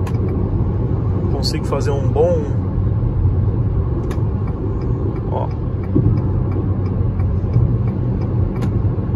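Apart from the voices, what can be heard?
Jeep Renegade 1.8 Flex car driving uphill on gasoline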